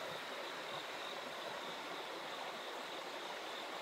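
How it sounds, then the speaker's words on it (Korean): A stream rushes through a valley with steady, broadband water noise, constant and fairly close, with no voices. "시냇물 소리 좋죠?"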